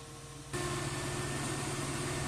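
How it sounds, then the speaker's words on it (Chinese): A small Xiaomi Youpin (ZMI) electric fan runs at its third speed setting. Its motor hum and airflow switch on abruptly after a quiet start and then hold loud and steady, with no voices. "在三档的情况下，紫米这款的马达噪音也是比较大声的"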